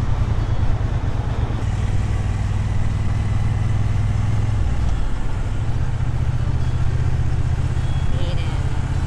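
A Triumph motorcycle rides along a road with a steady, low engine drone and wind rush throughout, and a rider's voice talks over it.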